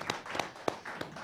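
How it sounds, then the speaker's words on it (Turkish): Studio audience applause on a Turkish folk music TV program, a few sparse, faint claps spaced out over a short moment rather than a full ovation. "Hepsi için güçlü bir alkış rica ediyorum ben."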